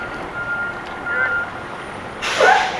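A fire truck reverses while beeping intermittently in the distance, under a steady traffic rumble, and a louder, brighter burst of beeps and engine noise comes in near the end.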